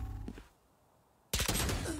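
Gunfire in the Valorant video game: a sharp burst of loud shots bursts in after a quiet lull, following faint earlier game sounds, with no one talking over it.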